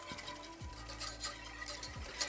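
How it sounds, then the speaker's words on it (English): Whisk scraping through half and half stirred into a roux in a pot, a steady close brushing swish with a few low bumps, no talking. "now it is time to add the half and half, and then we'll whisk this together until it thickens a bit"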